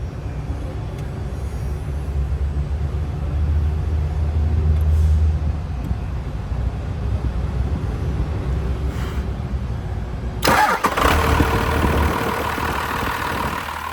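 A second-generation Ram 12-valve diesel engine fires up after a long cranking and idle-like hum, catching with a sudden loud broadband roar near the end, close by and alone.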